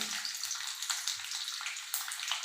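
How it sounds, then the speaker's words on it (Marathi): Faint crackling and sizzling of mustard seeds popping in hot oil in an iron wok, a busy hiss dotted with small pops. "आपली मोहरी तडतडली आहे"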